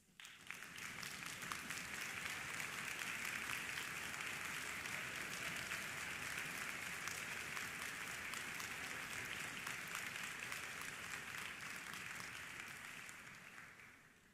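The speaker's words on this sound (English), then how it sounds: "please stand so we can give you a round of applause." Audience applause at a concert band concert rises into a steady, even wash of many clapping hands, heard from a distance and held for over ten seconds before tapering off at the end.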